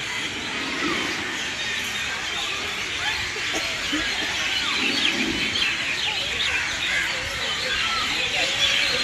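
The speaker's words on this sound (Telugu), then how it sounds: "ఇక్కడ చూడండి పక్షులు అయితే ఎంత బాగా అరుస్తున్నాయో" Birds call steadily in Shivaji Park, Vizag, in the evening, a dense chorus of chirps and tweets with faint traffic behind.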